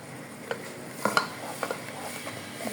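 Spice paste of chili, turmeric and coriander powder being stirred and fried in a pan for a Bangladeshi rui fish curry: a spoon scrapes and clinks against the pan in sharp, irregular knocks over a soft, steady sizzle, with no talk.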